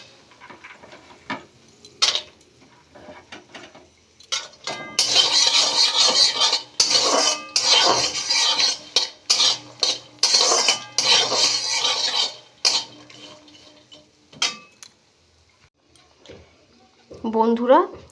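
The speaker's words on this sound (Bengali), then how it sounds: "এইবারে এর মধ্যে অ্যালমন্ড আর কাজু বাদামটা আমি দিয়ে দেব, দিয়ে আবারও ধিমে আঁচে নাড়তে থাকবো।" A spoon scrapes and clinks against a pan as almonds and cashews are stirred over low heat, bursts of metallic scraping come in irregular spells with quiet gaps between them, and a voice speaks briefly near the end.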